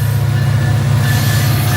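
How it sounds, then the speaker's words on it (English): CPKC freight train with a Canadian Pacific locomotive in the lead, rolling steadily past nearby with a constant deep engine drone and a faint high rail squeal over the rumble of the cars. "we got a CPKC train coming past with the Canadian"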